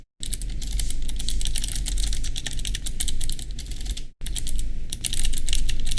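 Rapid, steady clacking of keys on a computer keyboard, close and distinct, with a brief pause midway before the typing resumes.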